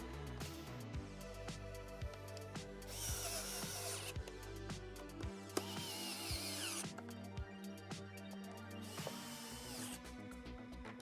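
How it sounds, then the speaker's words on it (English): A power drill drives short screws into Onewheel GT rail bumpers. Several short, close bursts of whirring come between quiet pauses, with no speech. "Now I'm going to start by putting in the short screws, and those are going to go on the top surface of the bumpers."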